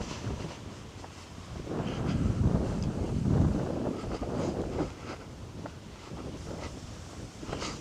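Wind blowing on a waterside street in Dalkeith, Perth, buffeting the microphone in strong, uneven gusts, a loud low rumble that swells and eases, with no talk.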